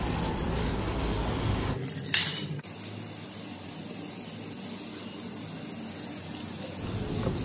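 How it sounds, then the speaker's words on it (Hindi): Aerosol spray paint applied to Honda Dio scooter dashboard parts, a hissing spray that runs continuously, dips briefly with a couple of short bursts near the two-second mark, then resumes as a steady hiss. "तो सारे पार्ट पर आपको जो है स्प्रे पेंट कर लेना है।"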